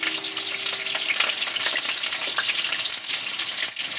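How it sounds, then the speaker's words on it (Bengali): Potato pieces fry in hot oil in a wok, giving a loud, steady, dense sizzle with crackling spatter throughout and no voices. "দিচ্ছি কড়াইতে, আলু ভাজবো। তেল দিলাম, ছেড়ে দিলাম।"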